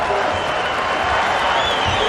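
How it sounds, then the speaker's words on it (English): After a welterweight bout between Nick Thompson and Keith Wisniewski, the UFC 56 arena crowd keeps up loud, steady applause with scattered cheers and whoops. "a nice round of applause as this UFC 56 crowd"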